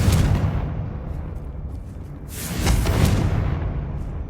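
Confringo blasting curse explosions in Hogwarts Legacy, a low rumbling boom at the start and another heavier blast swelling midway, both thick and lingering with no talking over them.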